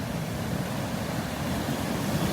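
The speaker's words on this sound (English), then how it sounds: "I could just stand here for hours watching the waves" Ocean waves wash steadily onto a beach in Naples, Florida, a continuous soft roar of surf with faint wind, no voices over it.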